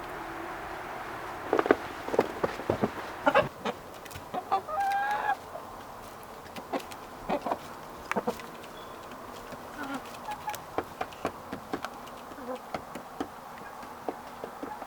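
Chickens and a rooster in a winter coop, with soft clucks and short calls scattered over a steady low background hum, the birds fairly close and moderate in level, with no talking.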